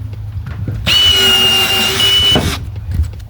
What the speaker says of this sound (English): now I'm going to drill another hole right here so we can get a base